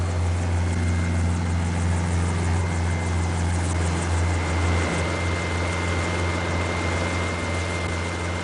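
A helicopter arriving at the helicopter pad of an offshore pipelaying platform, with a loud, steady rotor thrum and engine whine holding throughout, close and continuous with no voices.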